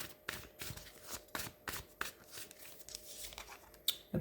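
Tarot cards being shuffled and drawn during a reading, a series of soft papery riffles and snaps spaced irregularly and heard close and quiet with no talking.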